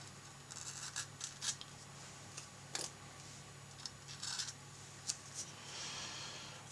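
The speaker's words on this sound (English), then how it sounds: "we're going to go at a very severe angle while we're trimming that film" A blade trims polarizing film from the LCD panel of a 1990–96 Corvette instrument display, making quiet, intermittent scratchy cuts and scrapes in short bursts over a low steady hum.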